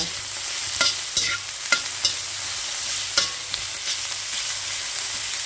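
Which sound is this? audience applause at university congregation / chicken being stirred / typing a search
chicken being stirred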